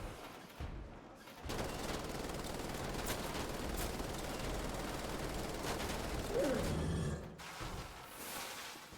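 Chain gun firing in the video game Wolfenstein: The Old Blood, a continuous rapid stream of loud close gunfire lasting several seconds, broken by a short pause near the start and easing off at the end.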